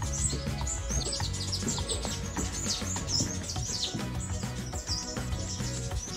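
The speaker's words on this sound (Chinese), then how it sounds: "好多小鸟叽叽喳喳的" Many small birds chirp and twitter in a backyard with a pink flowering tree in a small town along the Great Ocean Road in Australia, a busy overlapping chorus of high calls over a low background hum.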